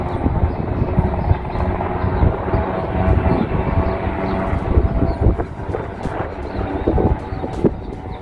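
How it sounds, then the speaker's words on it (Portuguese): A Military Police Águia helicopter flies training manoeuvres near Sorocaba state airport, its rotor and engine noise a steady, moderately distant drone mixed with gusty wind buffeting the microphone. "lá fundo também você pode ver o helicóptero Águia fazendo treinamento"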